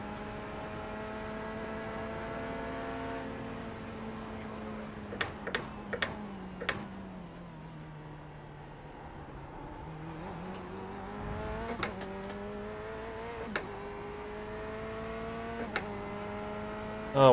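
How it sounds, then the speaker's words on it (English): LMP2 prototype race cars in an iRacing endurance race at Sebring, engine notes rising and falling as a bunch of them pass, with scattered sharp clicks over the steady motor drone. "The whole bunch of the LMP2s is going to be coming through now."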